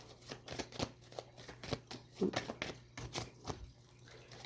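Tarot cards shuffled up close in short, uneven bursts of soft flicking and slapping, quiet and alone without talk.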